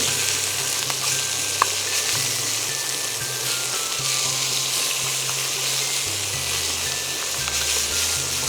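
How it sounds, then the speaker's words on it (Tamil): Tomatoes with chilli sautéing in a hot pan, a steady loud sizzle and crackle with faint stirring scrapes, close up and without talk. "இப்போ வந்து தக்காளி ஆட் பண்ணிக்கலாம் தக்காளியும் இது எல்லாத்தையும் சேர்த்து நல்லா வதக்கிட்டு"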